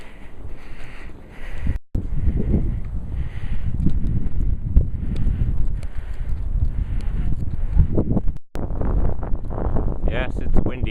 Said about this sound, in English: Yes, it's windy.